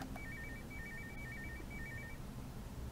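A phone rings in a horror story scene, a faint warbling electronic tone repeating in short bursts for about two seconds over a low, murky background hum, with no talking.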